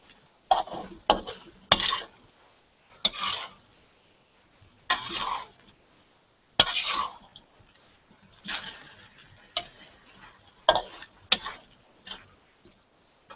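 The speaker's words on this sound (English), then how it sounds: "Give this a good stir." Prawn rendang with daun kunyit being stirred in a pot: a dozen or so separate scraping and clinking strokes at an unhurried, uneven pace, close by and fairly quiet, with no talking.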